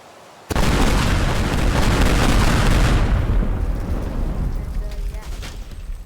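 A detonation in the Teardown video game bursts in abruptly as a loud, dense roar that holds for a few seconds, then slowly thins into rumbling debris and crackle.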